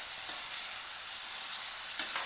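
Potatoes and val bean pods stir-frying in a pan, a continuous even hiss of sizzling oil with a couple of faint spoon taps, steady and close with no voices.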